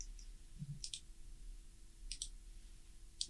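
A few faint computer mouse clicks, short sharp ticks scattered singly and in pairs over a quiet background.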